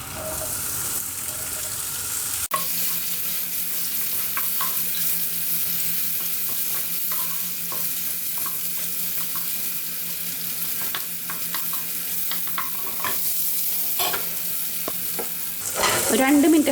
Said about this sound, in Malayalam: ഓയിൽ നന്നായിട്ട് ചൂടായതിന് ശേഷം ഇതിലേക്ക് സോസേജ് ഇട്ട് കൊടുക്കാം